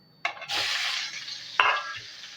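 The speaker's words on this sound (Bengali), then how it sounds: "ওই তেলে ফ্রাই করে নেব।" Salted, medium-sized potato pieces frying in oil for a dhaba-style egg curry: a close, bright sizzle starts suddenly and holds steady, with a second flare of crackling midway as pieces are stirred in the pan.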